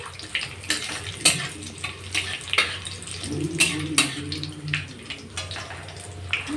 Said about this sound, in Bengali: গরম মশলা কুচি সব কিছু গরম তেলটার মধ্যে দিয়ে দিতে হবে